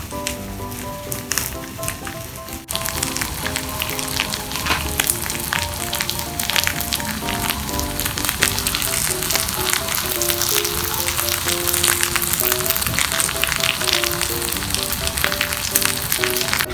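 Rice and egg for a Pepper Lunch-style fried rice fry in a hot pan, and a steady, crackling sizzle holds close and loud throughout, jumping up in intensity after a quieter opening, with faint tonal music underneath and no talking.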